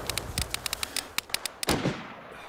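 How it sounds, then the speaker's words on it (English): Rapid bursts of video game gunfire crack out in an irregular string of sharp, close shots over steady background noise, ending in a heavier blast. "I'm getting shot."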